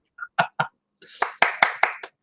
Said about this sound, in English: I'll do the applause for everybody watching